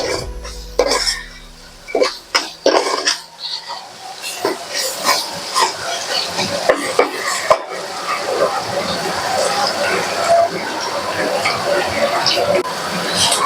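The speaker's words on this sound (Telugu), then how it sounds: "ఈ అల్లం వెల్లుల్లి పేస్ట్ కొంచెం ఫ్రై అయ్యేదాకా ఫ్రై చేసుకుందాం" Ginger garlic paste fries in a pan for a country chicken curry, with loud irregular stirring clatters and scrapes of a utensil at first, then a busy continuous sizzle close by.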